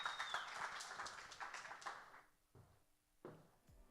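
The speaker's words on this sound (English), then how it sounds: "Let's give a round of applause for Joy Chevalier and the Cook's Nook." Brief burst of audience applause at a food industry event, a dense patter of many hands fading out after about two seconds, followed by a few scattered claps and faint room noise.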